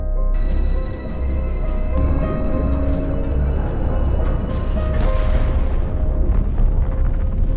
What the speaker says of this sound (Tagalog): pinasabog niya ang barko ng pira-piraso hanggang sa lumubog, dahilan para ang nuclear warhead ay sumabog sa ilalim ng dagat